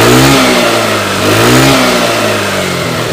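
A Suzuki Satria motorcycle engine with a vacuum carburetor revs up and down in steady loud surges, its pitch rising and falling without a break.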